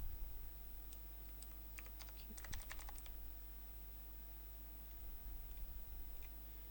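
Computer keyboard typing in a short burst of rapid clicks around the middle, fairly faint against a steady low hum, with quiet room tone before and after and no speech.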